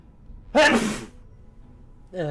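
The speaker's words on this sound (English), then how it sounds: "1 second, I have to sneeze." A single loud, close human sneeze bursts out sharply and fades within half a second, followed by a brief quiet breath sound afterward.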